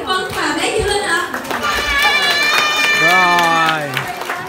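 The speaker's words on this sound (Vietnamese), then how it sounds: "xin cho một tràng pháo tay thật lớn cho chị Tuyết Vân và bé Diệu Linh ạ" A crowd applauds and cheers at an eighteenth birthday party, clapping mixed with loud voices and a singing, sustained tone, all close and lively.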